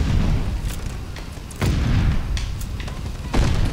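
Heavy shotgun blasts boom out in a video game, three loud shots spaced roughly a second and a half apart, each a sharp broadband burst over a steady low rumble.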